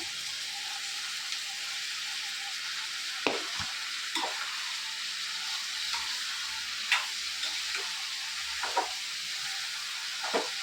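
Cucumber pieces and mutton cooking in a curry pan, with a steady frying hiss and a few sharp spoon scrapes and clinks as the mixture is stirred.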